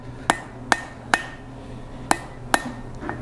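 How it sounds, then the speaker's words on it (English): Five sharp, ringing hammer blows land on a steel drift being forged at a blacksmith's anvil, spaced irregularly and close up, with no talking. "I'll take a couple more hammer blows to finish that up."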